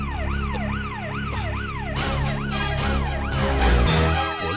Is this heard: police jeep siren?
yes